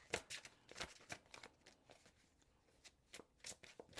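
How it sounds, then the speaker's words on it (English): Cards drawn and handled from an oracle card deck, heard as quiet, close, crisp riffling flicks and slides in irregular bursts. "Getting another card from the Galactic Heritage deck."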